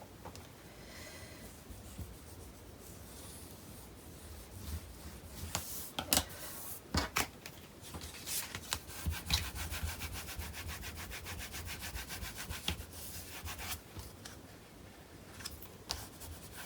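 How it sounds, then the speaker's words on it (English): A paper cover material for a steampunk journal is burnished down by hand, giving a soft, continuous close rubbing and scraping with scattered sharper strokes throughout. "I will burnish this down"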